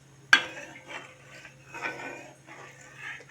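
A metal clank, then a utensil scraping around a metal wok of milk on full gas in slow, repeated strokes over a low steady hum.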